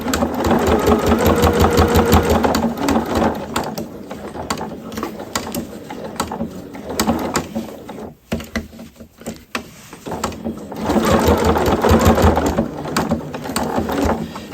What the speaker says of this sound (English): what I'm going to do is keep sewing that 1/4 inch up until that dot